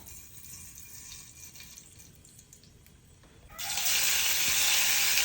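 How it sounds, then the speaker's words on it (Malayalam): Quiet crackle at first, then a sudden loud, bright sizzle of mustard seeds spluttering in hot oil that continues steadily to the end. "കടുകൊക്കെ പൊട്ടി"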